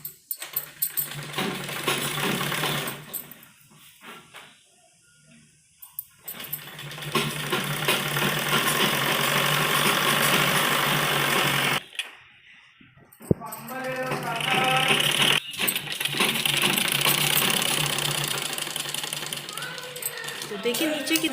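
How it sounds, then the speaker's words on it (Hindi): A sewing machine stitches fabric for a newborn baby's jhabla dress in bursts of rapid mechanical whirring, pausing between runs while someone talks over and between the stitching. "अब हम इसमें एक तरफ इस तरह से करके सिलाई लगाएंगे"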